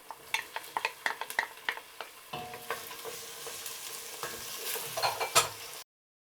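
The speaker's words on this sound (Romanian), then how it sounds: "Călim tot așa 2-3 minute." Bell pepper and smoked meat sautéing in a pan for a bean stew, with sharp scraping stirs over a steady sizzle that grows denser and louder midway.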